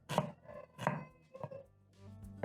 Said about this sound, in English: Pick your red onion and cut into half and then into strips.